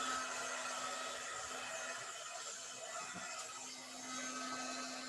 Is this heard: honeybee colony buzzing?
no